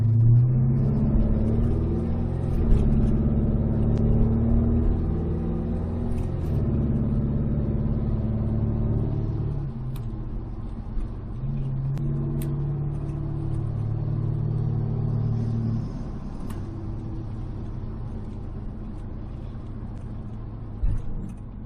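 Engine of a 1985 Chevrolet Silverado K20 4x4 pickup, a deep steady rumble that swells and falls through several revs, with small clicks and knocks near the end and no talking.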